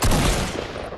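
Fortnite gunfire erupts as a dense, loud burst of rapid shots up close, quickly fading within about a second.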